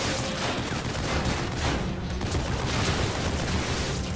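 Dense, continuous machine gun fire in The Evil Within, a rapid rattling barrage at steady loudness with no pauses.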